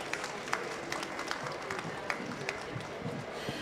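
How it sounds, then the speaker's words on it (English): A live audience at a technology and nature talk show session applauds the panelists, a steady wash of clapping from a crowd with sharper individual claps popping out, moderately loud and filling the room throughout. "Let's give a round of applause once again."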